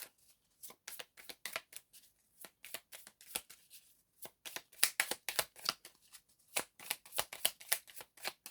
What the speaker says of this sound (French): Je vais recouper du coup une dernière fois avec l'oracle Béline.